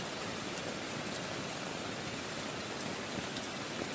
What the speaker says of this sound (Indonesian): masih deras nih hujan teman-teman